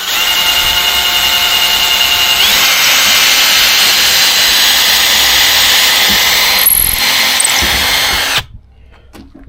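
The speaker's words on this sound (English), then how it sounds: "Just drill them through." Power drill whines loud and close while driving through an old wooden fence, a steady high-pitched run for about eight seconds that shifts slightly in pitch before stopping abruptly.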